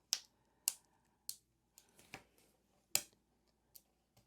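Scissors cut through planner sticker paper in a series of crisp, close snips, about eight short clicks spaced unevenly in an otherwise quiet room.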